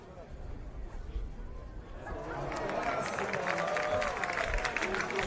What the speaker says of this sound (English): Big cheers from the crowd there.